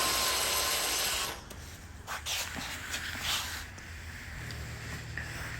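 Power screwdriver driving a quarter-inch screw into a bracket on a Maytag Bravos XL gas dryer, a loud close whir for about a second, then quieter clicks and handling noises.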